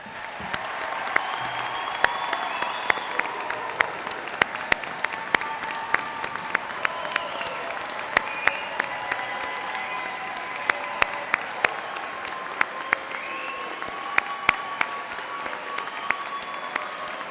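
Broad, steady applause from a large audience at a university fall commencement ceremony honoring the graduating class, with individual sharp claps standing out near the front and faint whoops and voices over a sustained wash of clapping.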